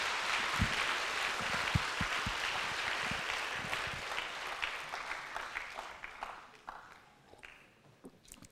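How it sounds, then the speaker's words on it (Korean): A church congregation at a Friday worship service applauds in thanks, a fairly faint, steady clatter of many hands that gradually thins into scattered individual claps before dying away. "하나님께 감사의 박수 올려드리시겠습니다."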